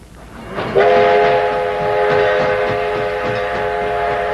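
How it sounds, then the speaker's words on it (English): A troop train horn sounds loud and close over the heavy rolling rumble of rail cars as the train pulls into a Kansas City station, its steady blast held for several seconds above the clatter. "The troop train rolled into Kansas City one more time today"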